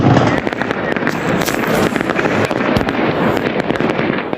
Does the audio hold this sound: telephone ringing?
no